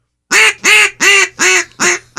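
Five loud, evenly spaced quacks from a duck call mimic a hen mallard on a radio show, each a harsh nasal blast close to the listener.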